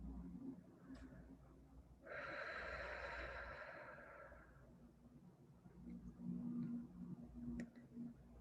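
One long, deep breath during a guided meditation, heard as a soft airy exhale that swells and fades over a couple of seconds against a quiet, low background hum.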